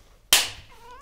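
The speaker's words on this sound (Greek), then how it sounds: "με νιαουρίζεις" A cat gives one loud, close meow that starts abruptly and trails off within a second.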